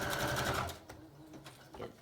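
Sewing machine stitching through a junk journal cover, a quick close whirring run of stitches that stops partway, followed by faint handling noises.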